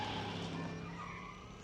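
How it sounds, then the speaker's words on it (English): A DeLorean car in a Back to the Future game gives off a steady engine or tire whine, loud and close, that fades a little over a short, continuous stretch. "The sound of the DeLorean."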